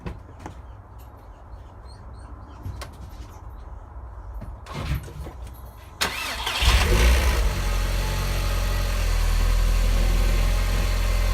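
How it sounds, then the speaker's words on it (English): A Volkswagen Golf MK4 engine cranks and catches about six seconds in after quiet handling noises, then settles into a loud, steady idle that fills the rest of the clip. "let's start the car"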